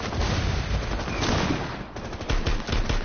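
Rapid pistol fire spammed in the video game Rainbow Six Siege, a loud dense string of shots packed close together with little pause, near and continuous.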